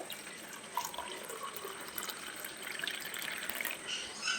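Ground, blended water streams into a homemade weight-loss drink with a soft, continuous splashing trickle and light drips, faint and close with no voices.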